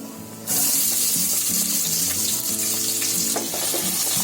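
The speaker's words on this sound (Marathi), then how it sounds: "आता त्याच्यामध्ये आपल्याला कांदा टाकायचा आहे." Chopped onions dropped into hot oil for Bombay biryani, a sudden loud sizzle that keeps frying steadily and close, with faint clinks over it and no talking.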